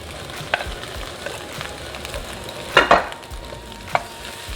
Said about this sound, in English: just mix it well with the vegetables. And add the jasmine rice